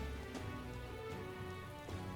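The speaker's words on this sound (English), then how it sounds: "it's raining" Rain falls in Metaphor: ReFantazio, a soft steady patter over quiet humming game ambience, with a few faint tonal blips from the game mixed in and no talk.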